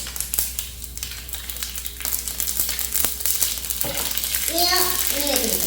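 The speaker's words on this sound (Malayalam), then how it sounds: "കടുക് പൊട്ടിക്കുന്നു" Mustard seeds crackle and sizzle in a hot pan while making pineapple pachadi, dense irregular pops over a steady frying hiss, close and fairly loud, with a few brief higher tones near the end.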